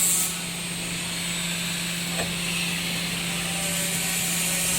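A chocolate and nut depositor machine with an internal mixer runs steadily, giving a constant mechanical hum with a faint, even whir and one light click, fairly quiet and without voices.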